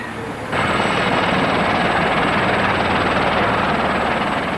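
A helicopter roars loud and steady, its rotor thudding continuously after a brief quieter moment at the start.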